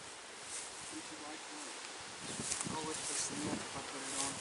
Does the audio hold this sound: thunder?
no